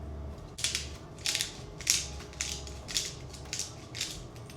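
Ground pepper is added while pork adobo is cooked, a pepper grinder giving about seven rhythmic, crunchy grinding twists, close and fairly quiet over a soft background.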